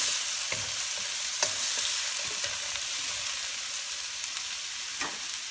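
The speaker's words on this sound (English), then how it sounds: "and we will add the belly and the shrimp." Pork belly and shrimp fry in hot oil in a pan, giving a steady soft sizzle broken by a few sharp stirring clicks and scrapes; fairly quiet and close, with no voices.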